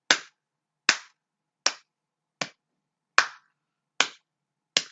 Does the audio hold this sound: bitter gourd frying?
no